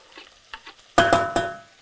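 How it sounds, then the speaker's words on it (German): Onions and vegetables sizzle and fry hard in a hot pan while being stirred, with a few soft scrapes and then three loud, sharp clatters of the utensil against the pan. No one speaks. "Ich will richtig scharf anbraten."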